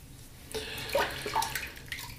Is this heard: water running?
yes